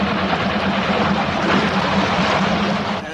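An airplane arriving at an island resort drones steadily through the whole stretch as a continuous engine rumble, loud and unbroken, easing slightly at the very end.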